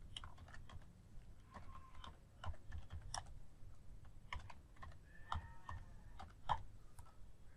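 Typing on a computer keyboard, with quick irregular key clicks at close range, fairly quiet, running steadily with brief pauses and no voice.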